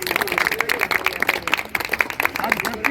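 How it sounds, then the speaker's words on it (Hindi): A group claps hands rhythmically in quick, fairly even beats during a Ramlila rehearsal, close and lively, while people talk over the clapping. "ताली बजा दो भाई।"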